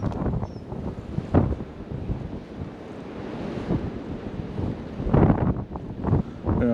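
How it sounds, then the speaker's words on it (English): Wind gusting across an open lakeside fishing spot, a broad roaring rush that buffets the microphone, swelling and easing in waves with stronger bursts near the end and no talk. "That wind's making it difficult as well."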